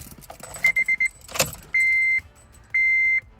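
A Honda Civic with about 159,000 miles is started with the key: several short warning chimes, a quick rattle as the engine cranks, then two longer electronic beeps in a quiet cabin.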